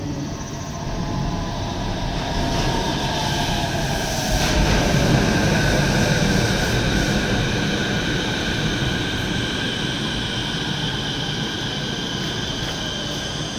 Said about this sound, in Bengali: প্রায় 4 মিনিট অপেক্ষা করার পর ট্রেন আসলো।